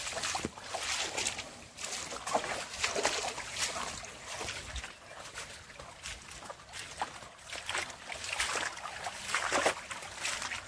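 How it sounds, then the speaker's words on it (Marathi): Feet wade through water along a thorny bottom while setting freshwater crab traps, with continuous sloshing and splashing at close range and intermittent louder splashes, no talk. "पाण्यातून चालायला लागते."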